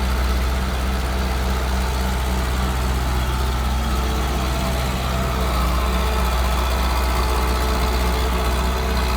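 A Hitachi EX120 excavator's diesel engine runs continuously while loading soil into a six-wheel dump truck, giving a loud, steady, low rumble with vibration and no pauses.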